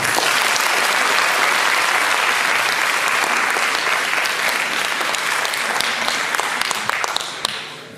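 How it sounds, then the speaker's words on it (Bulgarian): Warm, dense audience applause fills a hall at a celebratory concert marking an organisation's 35th anniversary, loud and continuous, with no voices over it, then thinning slightly in the last second. "Нека го приветстваме с горещи аплодисменти"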